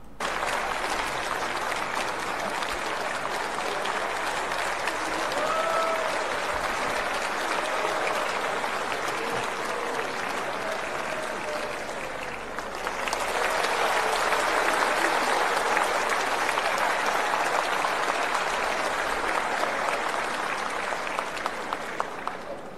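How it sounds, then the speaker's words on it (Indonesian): Sustained applause fills a parliament hall, a steady dense clatter of many hands that swells louder about halfway through and continues without letup. "Tepuk tangan."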